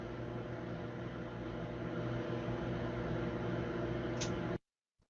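A microwave oven reheating one cup of coffee hums steadily and loudly at close range, broad and even, then cuts off abruptly near the end.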